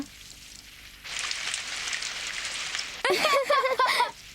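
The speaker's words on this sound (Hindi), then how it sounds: "बरसात हो रही है।" Rain begins as a steady hiss that sets in partway through and keeps falling evenly, then an animated voice speaks over it near the end.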